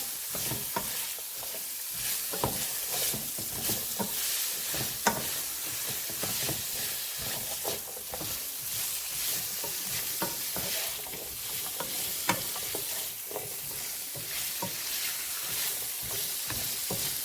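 Fresh green beans sauté in olive oil in a pan while being stirred, a steady loud sizzle and hiss broken by frequent clacks and scrapes of the utensil, continuous throughout with no voices.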